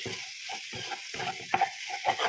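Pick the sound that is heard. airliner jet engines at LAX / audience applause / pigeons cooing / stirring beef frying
stirring beef frying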